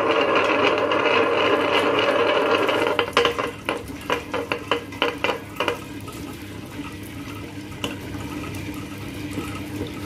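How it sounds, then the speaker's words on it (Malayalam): A kitchen wet grinder churns soaked urad dal with a little water, a steady mechanical whir that turns into an uneven series of knocking, scraping clatters partway through, with no speech. "ഞാൻ ഈ ഉഴുന്നും റാഗിയൊക്കെ അരയ്ക്കുന്നത് ഒരു ഗ്രൈൻഡറിലാണ്"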